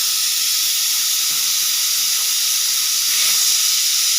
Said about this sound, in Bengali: একটা সিটি মারলো এখন